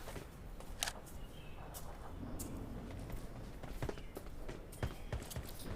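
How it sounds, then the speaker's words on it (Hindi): Footsteps of another player in the PUBG Lite battle royale game on the Golden Wood map, soft irregular steps under a constant low game ambience, fairly faint with a few sharper clicks. "तभी मुझे किसी और बंदे की फुटस्टेप की आवाज़ आती है।"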